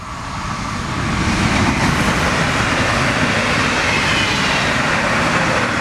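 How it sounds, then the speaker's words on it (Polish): Stadler FLIRT passenger train rushes past nearby, a steady broadband roar that swells within the first second and holds loud and constant to the end, with no talk. "I przez ten fajny kadr przemknął właśnie pociąg y, marki Flirt Stadler"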